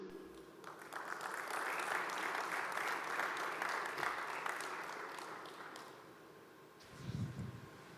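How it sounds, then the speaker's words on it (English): Sustained applause from an audience at a live basketball tournament draw in Saudi Arabia, a broad steady wash of clapping lasting several seconds before fading, with a low rumble of voices near the end. "a big round of applause, please join me in welcoming the two legends to the stage"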